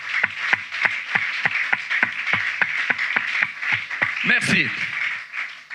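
A church congregation claps in a rhythmic, steady beat during a worship service, with a voice speaking briefly over the clapping near the end.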